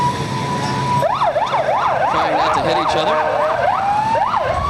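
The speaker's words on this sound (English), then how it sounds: "The sirens work. We know that for a fact." Oakland County Sheriff police motorcycle sirens at a Memorial Day parade in Royal Oak, Michigan, loud and near, with a rapid wailing yelp cycling over street noise and a steady tone before and after, while a voice comments briefly.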